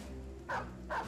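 Two short dog barks from Battle Brothers sound over a steady low in-game ambient hum, each one a clear mid-pitched bow-wow with a pause between them.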